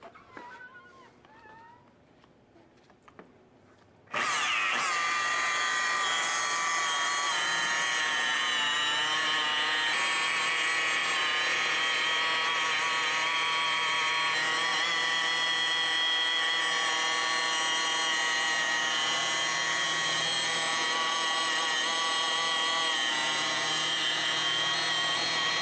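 Machine polisher with a soft finishing pad and glaze buffing car paint: after a few quiet seconds the tool starts abruptly and runs as a loud, steady, close whine with a wavering tone.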